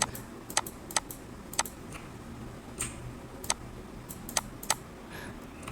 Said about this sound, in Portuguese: E aqui a gente vai apertar a tecla Alt